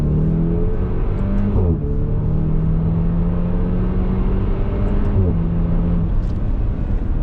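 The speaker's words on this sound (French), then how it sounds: "Là, l'échappement va s'ouvrir un petit peu." A Maserati Levante GT Hybrid's four-cylinder engine accelerates hard in sport mode with its exhaust opening, climbing in pitch with two quick upshifts, heard from inside the cabin as a steady, moderately loud drone.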